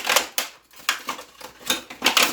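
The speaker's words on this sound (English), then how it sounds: "Well, keep cutting it with the scissors." Close, crisp scissor snips through a stiff plastic container, several sharp bursts in a row with brief pauses between them.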